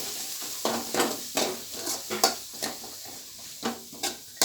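Small shallots sautéing in a pan while stirred, a soft sizzle broken by a regular rhythm of spoon scrapes and clinks against the pan, close and alone.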